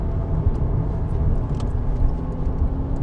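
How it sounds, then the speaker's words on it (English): A race car rumbles past on the track at Bedford Autodrome, a steady loud engine roar with road noise, no talking. "Race car moves."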